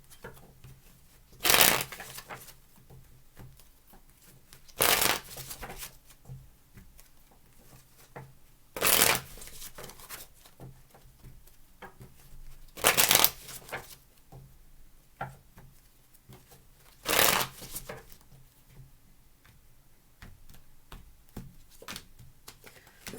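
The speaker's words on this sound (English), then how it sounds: "3 shuffles, please." Tarot cards being shuffled in five short, loud riffle bursts spaced a few seconds apart, with quiet room tone in between.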